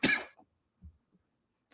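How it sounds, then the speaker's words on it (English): A person coughs once, fairly close and brief, followed by a couple of faint small sounds and near silence. "I thought you just stopped because you were coughing"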